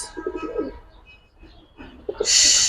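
A Giribaz pigeon coos up close in soft, throaty bursts, followed by a sudden brighter flutter or rustle at the end.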